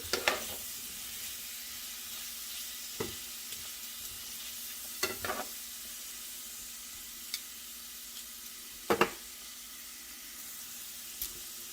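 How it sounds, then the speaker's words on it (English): Onions sauteing in olive oil in a pan, a steady soft sizzle throughout with occasional sharp scrapes and clinks of stirring, quiet and close. "We're going to let these onions saute down here in the olive oil for a minute or 2."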